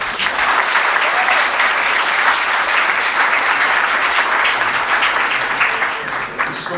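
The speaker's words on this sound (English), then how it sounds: "Give a big, huge round of applause to Dee." Loud, sustained round of applause from an audience, dense and steady throughout and tapering slightly at the very end, with no speech over it.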